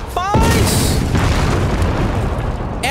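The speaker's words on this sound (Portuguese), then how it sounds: "Essa é uma munição explosiva" A loud, deep explosion from explosive artillery shells bursts out and rolls into a long rumbling roar, with a brief voice at the start, in the video game Napoleon: Total War.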